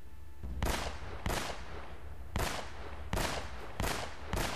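Six evenly spaced gunshots in Uncharted: Drake's Fortune, each a sharp loud crack with a trailing decay, fired at steady intervals over a faint ambient background.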